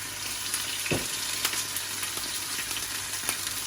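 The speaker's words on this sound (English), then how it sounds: "we pop the scallops in." Scallops sizzling in a hot pan, a steady close frying hiss with small pops and crackles, plus a brief clatter as they go in, with no voices.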